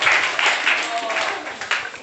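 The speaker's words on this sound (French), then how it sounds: "on applaudit, bravo" A school contest audience at Lycée Mérina claps in a short burst of uneven applause, close and busy, with a voice talking over it.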